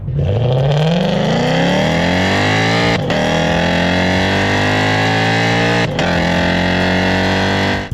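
A Lexus RC F with PP headers and an ARC exhaust revs hard, its loud engine note climbing steadily with two brief dips as it shifts, then holding a sustained high, raspy roar close by with no talking.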